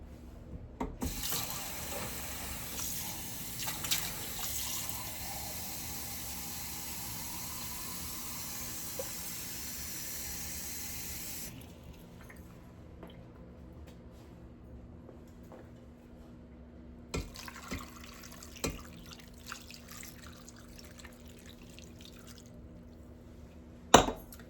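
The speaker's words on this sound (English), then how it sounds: "Now, I'm going to cover these with cold water." A kitchen tap runs cold water over pork neckbones in a pot: a steady, loud rushing stream for about ten seconds, a quieter pause, then a second shorter burst of running water with a few clinks.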